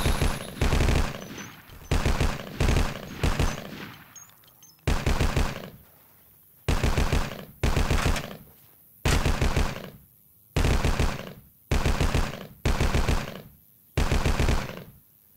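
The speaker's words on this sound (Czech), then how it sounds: "Jakmile se terč ve vaší léně zvedne, střílejte do něj, do plechovýho hajzla," Gunfire in the Vietcong video game as targets on a shooting range are hit, sharp bursts of automatic fire repeating in short clusters with brief silent gaps, loud and close.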